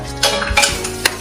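A spoon scrapes and stirs through Kolhapuri chicken biryani in a pan, giving three quick close strokes over a low background sizzle.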